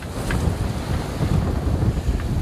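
Wind roars steadily and loudly across the microphone aboard a sailboat on a close reach in a 15 to 20 knot breeze on a rough Chesapeake Bay, with boat and water noise mixed in.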